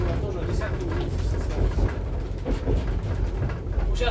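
Narrow-gauge railway carriage riding along the track, a steady low rumble with faint rhythmic clatter of wheels close by, with someone talking over it throughout.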